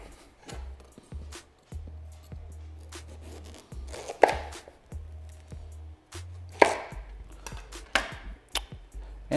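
A knife works through a spaghetti squash to split it in half, with repeated sharp cuts and cracks of varying force spaced unevenly over a low background hum.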